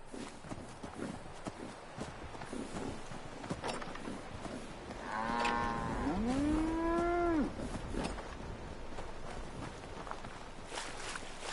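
A big iron cow in the video game XCOM lets out a long, loud, drawn-out moo midway, rising then falling, over steady background game noise with faint footsteps.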